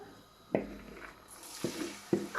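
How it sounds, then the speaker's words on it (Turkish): Food being sautéed in a pan, a soft background sizzle with a few sharp stirring clatters spaced across a couple of seconds, close and moderately quiet. "Azıcık kavuruyorum ben."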